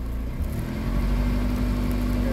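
A Honda CR-V 2.2 i-CTDi diesel from 2008 with a clogged particulate filter is held on the throttle while it hums steadily and fails to climb in revs. It sounds close and constant.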